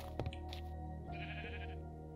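Sheep bleating in the Minecraft video game, several short wavering bleats close up over a steady game ambience with a soft background tone, no talking.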